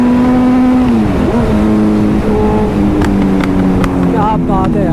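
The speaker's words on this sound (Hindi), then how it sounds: "इतनी सेटिस्फाइंग आवाज आ रही है ना बाइक से" A Kawasaki ZX10R sport motorcycle runs at speed on an open, empty road, its engine a loud, steady drone with a shifting pitch, close up and continuous under wind rush, with a few faint high chirps late in the sound.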